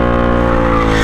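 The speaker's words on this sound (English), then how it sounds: "scary whistling sound" A four-wheeler ATV's intake lets out a loud, steady whistle over the engine's drone, a close, continuous tone with engine harmonics that rises slightly near the end, with no talking.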